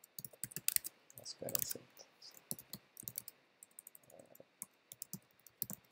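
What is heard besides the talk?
typing on a computer keyboard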